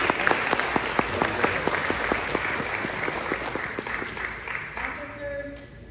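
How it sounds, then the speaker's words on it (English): A crowd claps through a round of applause at a high school academic awards ceremony, steady and full in the hall, with faint voices underneath before it thins toward the end. "Please give them a round of applause."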